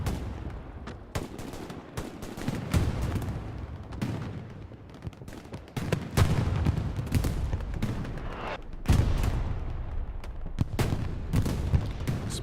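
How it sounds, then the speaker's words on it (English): Repeated gunfire-like bangs and booms crackle through a noisy Hell Let Loose battlefield at Carentan Train Station, with bursts swelling louder near the end. "Explosions, couple explosions happen in the back"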